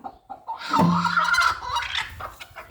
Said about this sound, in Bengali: এখানে আমার আর একটা মুরগি কুচে বসা